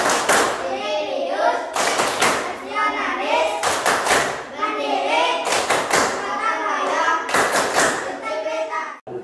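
An elementary school class performs a chanted clapping routine, children's voices singing in unison broken by repeated bursts of loud, synchronized claps and thumps at regular intervals.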